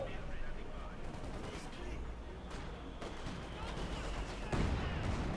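Mortar shells keep striking close by in a Company of Heroes 2 battle, a dense roar of blasts and battlefield gunfire with a sharper impact near the end.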